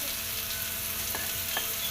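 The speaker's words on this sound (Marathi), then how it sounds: "तर बघू शकता इकडे कांदा छान असा फ्राय होतोय" Onion frying in a pan in a home kitchen, cooked for spicy moong dal, a continuous close hiss of sizzling oil with a couple of faint clinks.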